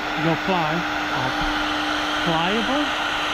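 A heat gun blows a steady, loud whooshing hum while softening factory sealant under a roof rail on a VW Crafter camper van, with faint whistling tones rising and falling over the constant airflow.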